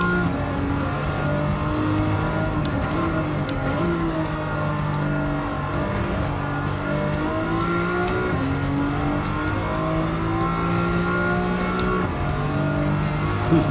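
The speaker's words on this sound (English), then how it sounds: "This BMW sounds good." A BMW race car engine in the Gran Turismo 7 video game drones loudly and continuously, rising and falling through gear changes, with brief tire squeal and no voices.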